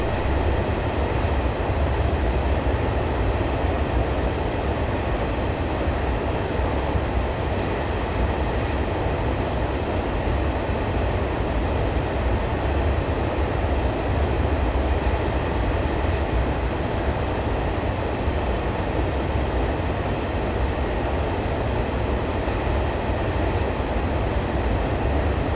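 Steady, continuous low rumble and roar of a Class 142 train coasting through a tunnel in Train Simulator 2015, unchanging in loudness throughout.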